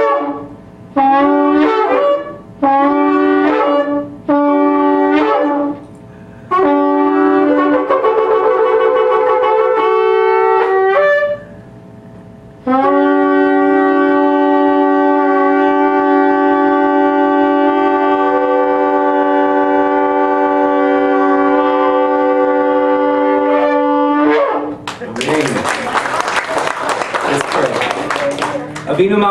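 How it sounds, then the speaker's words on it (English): A shofar blast sequence: several short sharp calls, then a long sustained wavering tone, loud and near, ending in a burst of noise. "as we hear the sound of the shofar"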